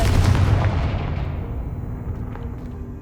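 A Confringo blast spell explodes in the video game Hogwarts Legacy, a loud booming burst that fades into a rumbling decay over a few seconds, with no voices.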